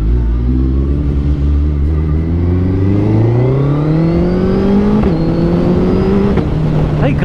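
A Suzuki Hayabusa motorcycle engine revs up through rising, climbing tones, shifting gear briefly and pulling again, loud and close under wind rush, with a rider's voice faintly present.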